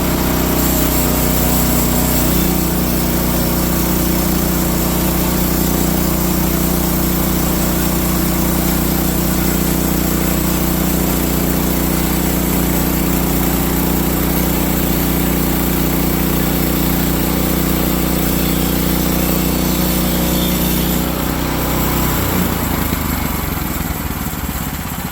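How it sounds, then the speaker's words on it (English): A sawmill engine runs steadily and loud while slabbing an ugly saw log into 1-inch thick pieces, a continuous drone with no talk that eases off near the end. "we'll just slab the rest of it into 1-inch thick pieces"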